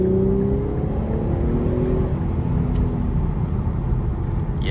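A 2020 Infiniti Q60 Red Sport 400 with a 7-speed automatic cruising on the road, its engine and road noise forming a steady, close, continuous low drone with no distinct shift break.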